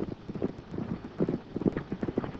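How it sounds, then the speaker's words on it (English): Horses' hooves clip-clop in a quick, uneven rhythm of repeated soft thuds, close and steady for the whole stretch, with no talk over them, in an old western adventure setting. "I hear horses."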